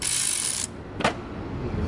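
A wrench ratchets on an engine bolt during an engine replacement, a close burst of rapid clicking followed by a brief second pull, with no voices.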